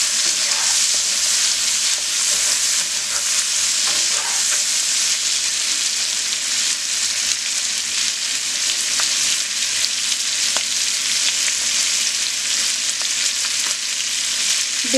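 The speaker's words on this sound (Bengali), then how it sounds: "এখন নেড়ে দেব। মাছগুলো একটু হালকা ভেজে নেব।" Fish pieces fry lightly in hot oil for a bottle gourd and prawn ghonto, giving a loud, constant sizzling hiss with occasional faint stirring clicks throughout.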